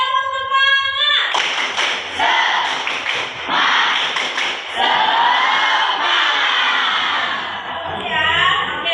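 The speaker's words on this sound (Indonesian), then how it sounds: "Sekali lagi, tepuk semangat." Classroom participants repeat a rhythmic clapping chant, sharp clustered claps mixed with loud group shouting and chanted voices, close and energetic, with a brief voice at the start and end.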